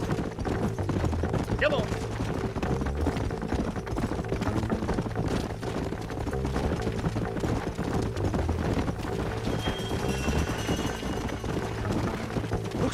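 Horses galloping in Red Dead Redemption, with a rapid, continuous clip-clop of hooves at mid distance, accompanied by music and a brief spoken line, with occasional distant gunfire.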